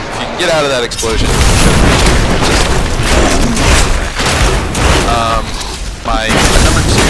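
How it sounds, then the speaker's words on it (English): Black Hole skill explosion in the Diablo 3 video game, loud continuous rumbling booms and crackling blasts from combat effects, with someone talking over the din. "if you can get out of that explosion"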